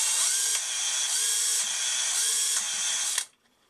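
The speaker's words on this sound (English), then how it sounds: "I'll just run the drill, and as I touch these" A power drill spins a sailboat's wind generator, a steady high whine with a faint ratcheting texture that holds for about three seconds, dips briefly in pitch as if loaded, then stops abruptly into near silence.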